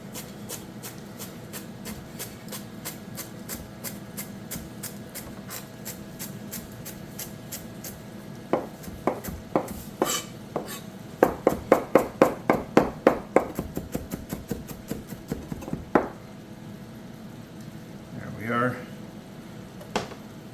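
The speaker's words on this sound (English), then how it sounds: "All we're going to do is we're going to give this a quick chop" Flat leaf parsley chopped with a knife for a shrimp pasta: a run of sharp, close board taps, quickening into a fast cluster, then a few scattered strokes, over a steady kitchen background hum.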